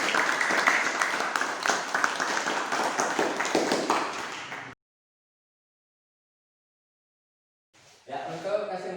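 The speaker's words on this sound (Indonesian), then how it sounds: "tepuk tangan untuk kelompok" A classroom group of students gets a round of applause: dense, brisk clapping from several people for about five seconds, then silence, then a short burst of sound near the end.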